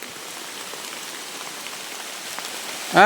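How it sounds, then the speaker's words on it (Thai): Heavy rain pours down steadily outdoors in a dense, even hiss, loud and continuous throughout, with a brief louder burst at the very end. "ฝนตกมากเลยนะครับ"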